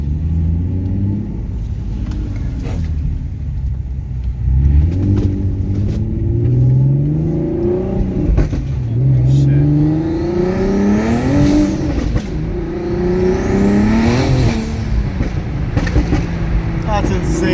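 Turbocharged Nissan 370Z accelerating hard, engine note climbing repeatedly through the gears with brief dips at each shift, loud and close from inside the car, with people talking excitedly over it.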